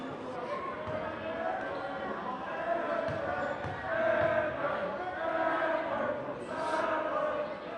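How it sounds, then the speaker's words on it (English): Home crowd at a high school varsity boys' basketball game between Bedford Bulldogs and Nashua South Panthers, a steady broad roar of voices and chatter swelling and easing in waves through the gym, with a few faint thumps underneath. "Home crowd making some noise while the Panthers are taking some free throws"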